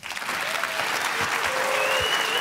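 A conference audience at a leadership forum claps enthusiastically, a full steady burst of hands with faint whistles and cheers, while a voice speaks over it near the end.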